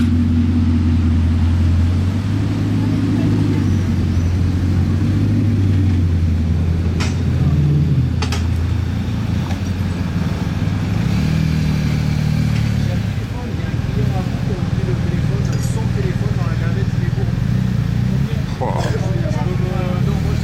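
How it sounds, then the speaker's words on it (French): A Pagani or Bugatti supercar engine rumbles with a steady deep exhaust drone for twenty seconds, close and loud, while people talk over it throughout. "Quelle violence, regardez ça là avec les pots d'échappement comme ça."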